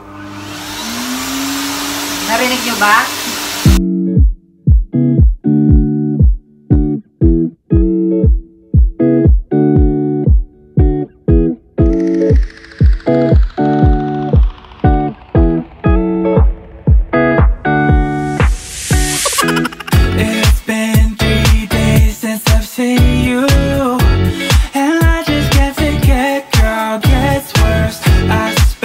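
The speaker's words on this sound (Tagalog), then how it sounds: "So, medyo maingay ito, kaya walay-walay tayo salita kapag binacuum ko ito" A vacuum cleaner works over a couch with a loud, rapid pulsing roar, its pitch and texture shifting as the nozzle moves, after a brief spoken question at the start.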